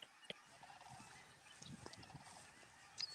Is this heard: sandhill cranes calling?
yes